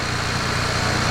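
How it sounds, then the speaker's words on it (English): BMW N54 engine freshly fitted with new turbos runs steadily, giving a dense, loud, continuous rumble and hiss for a short stretch with no talk. "New turbos are in, they sound amazing and they actually spool so hard."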